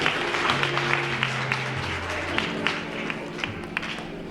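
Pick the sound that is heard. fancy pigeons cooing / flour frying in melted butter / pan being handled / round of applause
round of applause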